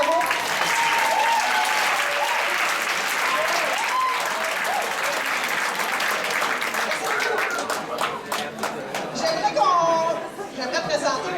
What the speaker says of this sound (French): Donc, une bonne main d'applaudissements